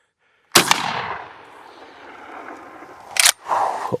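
A Pardus Arms LAX 12 shotgun fires two loud, close single shots about three seconds apart, each blast followed by a long outdoor echo tail and no talking.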